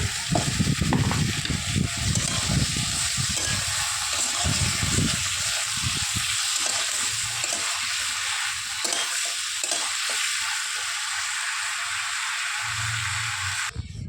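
Loud, continuous sizzling and frying as turmeric and salt are sautéed for a thin rohu fish curry with potatoes, with stirring scrapes and clatter through the first half, then a steady hiss.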